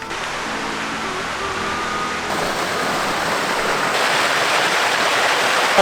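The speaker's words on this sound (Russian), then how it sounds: "Тут течет, тут немножко капает иногда." Water running steadily through a tunnel on Madeira, a continuous broadband rush that swells slightly louder toward the end, with no voices over it.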